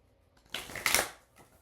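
A deck of Oracle of Delphi cards is shuffled once in a quick riffle of crisp, close papery flutter, followed by a faint tap as the cards settle.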